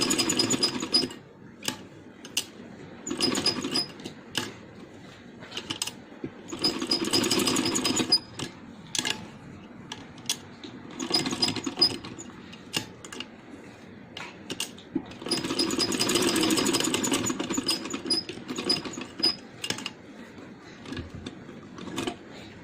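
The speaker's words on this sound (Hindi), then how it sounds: "तो ज़रा अच्छी तरह से 2-3 दफ़ा हम सिलाई लगाएंगे ताकि अच्छी तरह से इसके साथ जॉइंट हो जाए" A sewing machine runs in repeated bursts, stitching elastic onto a handmade long night frock, with steady rattling runs separated by short pauses.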